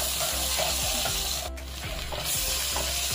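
Two tablespoons of butter melting and sizzling in a hot pan for white sauce pasta, a close continuous fry hiss with soft rhythmic stirring knocks and no voices.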